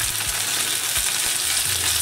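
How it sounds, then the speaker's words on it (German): Potatoes frying in a large paella pan, a steady bright sizzle spread evenly across the clip, with low scraping knocks from stirring now and then and no voices. "und dann das Ganze erstmal schön brutzeln lassen, bis es so ein bisschen knusprig auf einer Seite ist"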